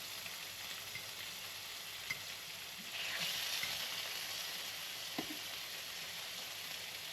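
Fish fillet sizzling in a hot pan, a steady close frying hiss throughout that swells louder midway, with a couple of light taps of a utensil against the pan.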